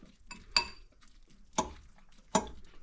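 Korean noodles being stirred in a pot give three sharp metallic knocks of a utensil against the rim, spaced about a second apart, fairly quiet with soft clatter in between.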